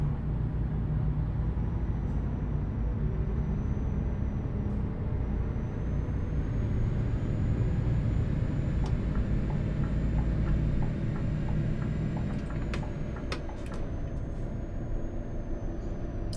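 A steady, droning V8 engine from a Scania Streamline R730 in a truck-driving game, an even low rumble with a faint whine above it and a few sharp hisses and clicks toward the end.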